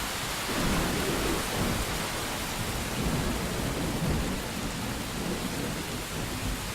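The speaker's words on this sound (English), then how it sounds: "I do like stormy levels, and they're kind of hard to find in meditation apps." Thunderstorm sound effect from a meditation app: steady, fairly loud rain hiss with low rolling thunder rumbles swelling and fading throughout, no voices.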